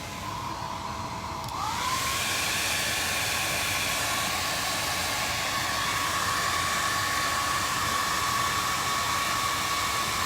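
A hair dryer blows steadily on a piece of wet acrylic paint. It starts abruptly after a quiet second and then holds as a loud, continuous rushing hiss with a constant motor whine for the rest of the clip.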